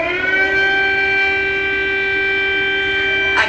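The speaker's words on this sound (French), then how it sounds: "À Kiev, la capitale, et dans les grandes villes, les sirènes d'urgence." Civil defense air raid emergency sirens wail steadily over a city, a loud sustained rising-and-holding tone with layered harmonics that fills the whole stretch, alone with no talk.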